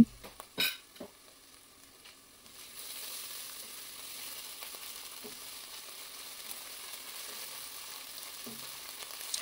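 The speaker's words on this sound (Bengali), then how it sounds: "একসাথে আরো কিছুক্ষণ এটাকে ভেজে নেব।" Onion, ginger paste and garlic paste frying in a pan: a steady close sizzle throughout, with a few sharp clinks of a utensil near the start and occasional stirring taps, no voices.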